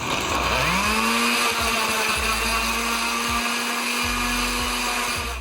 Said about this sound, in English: place them into either a blender or a food processor. Process them until you have a smooth tomato sauce.